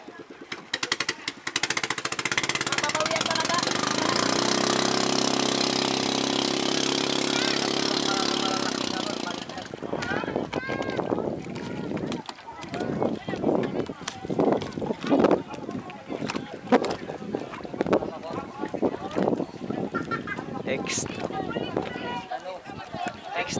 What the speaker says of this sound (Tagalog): Calib racing boat. Napakabilis nito, sarap sakyan para kang lumilipad.